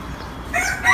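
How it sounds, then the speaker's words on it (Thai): A red and black chicken calls loudly at close range on a farm, a short rising cluck-and-crow burst at the end of a brief moment of low background noise. "อันนี้ก็คือไก่สีแดงดำมาก"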